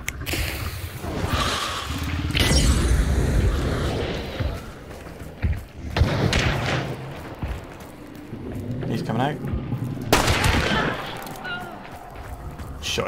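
Gunfire and heavy booms rumble through a tense match of the video game Hunt: Showdown, including shotgun fire. Loud blasts swell and fade across the stretch while voices talk over the action.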